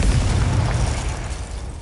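Confringo spell explosion in Hogwarts Legacy: a loud, booming blast with a rumbling low-end burst that slowly decays over about two seconds.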